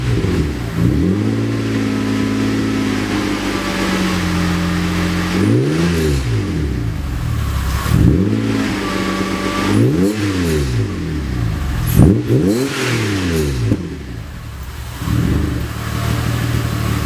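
A car fitted with a Mercedes M104.980 engine and a Stroma exhaust system revs repeatedly, each sharp rise and fall of the engine note standing out over a steady loud idle, close up with no talk.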